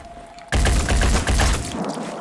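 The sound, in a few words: gunshot in video game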